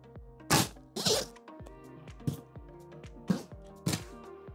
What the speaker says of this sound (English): see how strong are these zippers